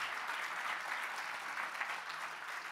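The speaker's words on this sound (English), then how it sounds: "make some applause for every team in this big event" An audience at a European youth business competition opening event applauds for the teams, a continuous broad wash of clapping from many people, even and sustained throughout.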